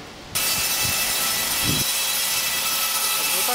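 A Turkish sawmill machine cuts a round log, its steady loud whine kicking in abruptly after a brief quieter start, with faint low knocks early on and continuous high-pitched cutting noise throughout.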